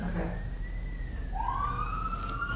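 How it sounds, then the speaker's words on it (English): Police sirens pass outside a painting studio, a faint wailing tone sweeping up and down in the distance over a low background rumble. "sirens that we can hear"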